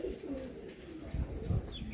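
A tournament pigeon coos close by in a soft, low, throaty pattern, a couple of rounded calls over a faint background.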